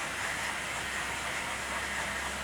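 Bachmann Pere Marquette Berkshire model steam locomotive running on a layout, giving a steady, faint mechanical whir and hiss that holds evenly throughout with no clear beat and no voices.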